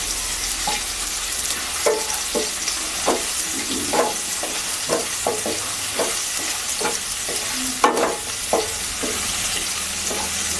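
Onions frying in a pan for a Bengali-style egg curry, with a continuous bright sizzle and a spatula scraping and tapping at irregular intervals, close and fairly loud, no talking.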